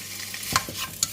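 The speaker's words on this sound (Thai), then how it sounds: "ผัดหมูนะคะ ผัดหมูให้เหลืองๆนะคะ" Pork belly stir-fried in a wok over high heat: a close sizzle with a couple of sharp utensil scrapes against the pan in quick succession.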